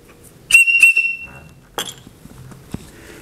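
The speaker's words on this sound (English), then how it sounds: "The whistle." A pocket survival kit whistle gives a short, loud, shrill blast with a steady pitch. A brief clatter of handling follows, then quieter clicks and rustles.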